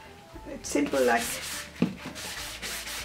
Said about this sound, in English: there is a sanding block. So I'm gonna sand that